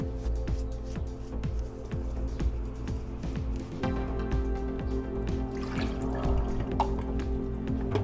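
Water trickles and drips steadily while a family pet is rinsed, small splashes and runs of liquid over a constant low hum, with no talking.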